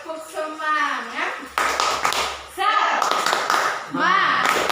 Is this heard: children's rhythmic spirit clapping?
yes